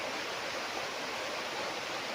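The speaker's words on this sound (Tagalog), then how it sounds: "Lakas ng agos." Strong current of irrigation water rushing through a channel on a farm lot in Liliw, Laguna, a dense, steady hiss and roar of flowing water, close and continuous, with no talk.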